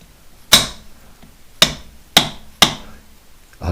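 Metal drift struck with a hammer to drive an oil seal home on an air-cooled VW 2-litre CU engine during a top-end build: four sharp, loud ringing impacts spaced about a second apart, with no voices.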